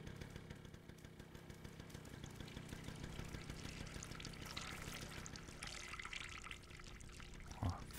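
Water pours steadily in the video game Stray, a continuous broad wash with a low engine-like hum underneath and a brief knock near the end.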